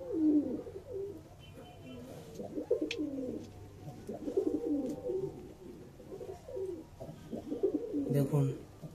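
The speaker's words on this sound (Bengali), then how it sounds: "দেখুন, এটা মাদি কবুতর" Pigeons in a loft coo in repeated low, rolling phrases close by, with soft wing and shuffling noises between calls.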